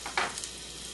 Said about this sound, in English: It's all about the sizzle, folks.